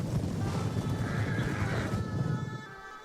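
Horses in the medieval battle game Medieval Kingdoms 1212 ride through trees, with a loud neigh and a rumble of hooves over battle noise that fades toward the end.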